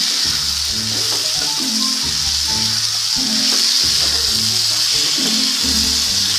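Broad bean seeds (shim bichi) cooking in curry masala sizzle continuously in a pan, an even frying hiss with a faint low tonal hum underneath and no talking.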